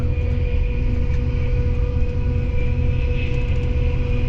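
A high-speed train in Morocco cruises at 302 km/h, heard from inside as a loud, constant low rumble with a steady tonal whine, smooth and unbroken throughout.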